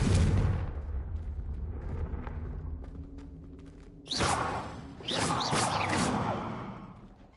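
A Confringo blasting spell in Hogwarts Legacy goes off as a loud, broad explosive burst, then a second roaring blast follows a moment later, each with a rumbling tail that fades out.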